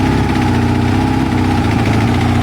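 A Kawasaki ZL600 motorcycle engine idles on choke, a loud, close, steady low rumble with a fast even putter and no talk over it.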